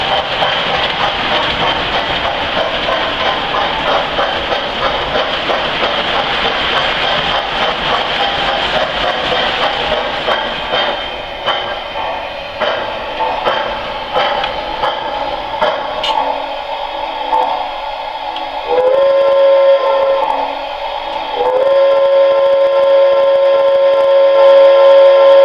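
A model train runs steadily: an N3YH 390E locomotive pulling ten Ivory and Peacock reefer cars. Its continuous rumble and clatter are close and loud, and a sustained whistle tone sounds near the end.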